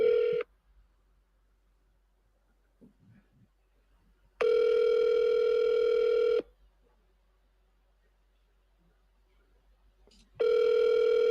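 An outgoing phone call to a real estate agent's office rings back in long steady electronic tones, three bursts separated by silent gaps, clear and alone.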